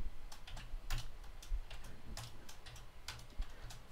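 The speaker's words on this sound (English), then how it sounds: "So we can just start typing some numbers." Fingers tapping a computer keyboard while entering numbers into a blank spreadsheet, a steady run of light, close clicks with brief pauses between bursts, no talking.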